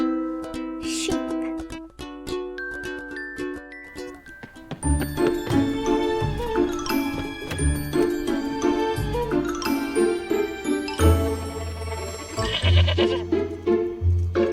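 Sheep bleating on a farm amid jingling, tinkling bell-like tones and a rich musical backing, the bleats rising and falling over a busy, fairly loud mix.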